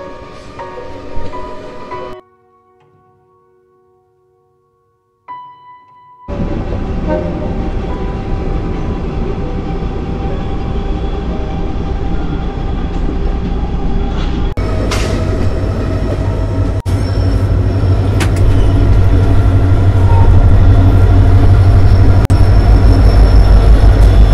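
A passenger train moving through Delhi past railway stations, a continuous loud rumble of wheels with clacks and occasional squeals building steadily after a brief quiet gap, heard from inside the carriage.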